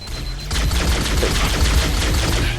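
Pistol fire in the Halo video game, a quick burst of rapid shots in close succession, sharp and loud, over a dense background of game noise.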